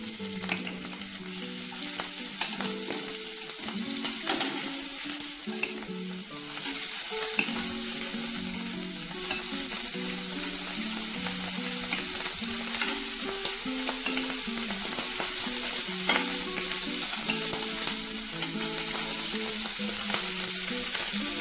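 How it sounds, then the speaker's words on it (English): Shrimp sizzle and fry steadily in a hot skillet, a continuous bright crackling hiss that stays close and even throughout, with occasional louder pops and faint tonal ringing in the background. "our skillet is good and hot, so what I'm going to do is put the shrimp in"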